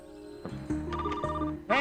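A telephone rings with a short patterned electronic trill, repeating tones heard close and clear for under two seconds.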